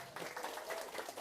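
A small group of villagers at a community gathering claps briefly in a faint, uneven burst of applause, with murmuring voices mixed in.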